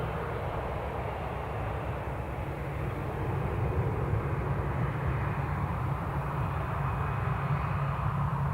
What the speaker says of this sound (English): Ryanair 737 to Barcelona. That has turned, so they'll be taxiing out.